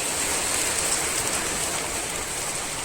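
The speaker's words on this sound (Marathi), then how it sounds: "आतां व्हडलो पावस पडपाक लागलो" Sudden heavy rain pours down in a steady, dense hiss that holds loud and even throughout, with no voices over it.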